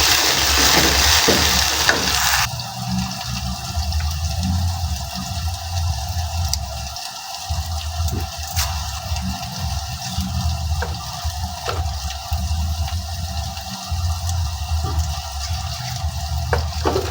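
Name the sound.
onions frying in a pan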